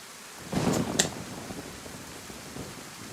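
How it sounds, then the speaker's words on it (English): Rain falls with a low rumble of thunder in DayZ, a broad wash of noise that swells early then settles into a steady hiss, with no talking. "The sound of the rain and the thunder is the best."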